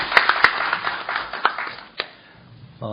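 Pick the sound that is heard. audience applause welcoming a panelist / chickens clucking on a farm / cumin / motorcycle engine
audience applause welcoming a panelist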